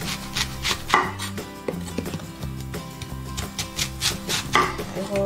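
A knife chops onion on a cutting board in a home kitchen, a run of quick, loud, close taps with short pauses, with no talking.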